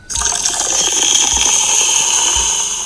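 Liquid pouring into a glass in a GTA 5 roleplay game, a steady bright gush that runs for under three seconds at an even level, with low knocks repeating about once a second beneath it.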